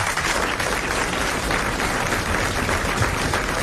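A studio audience on a 1980 French radio or TV game show breaks into applause, a dense, even roar of clapping that holds steady throughout.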